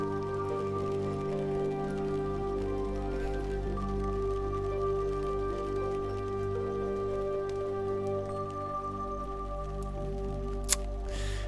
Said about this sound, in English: Kite went to bed just before the rain came so that we could listen to this on the inside.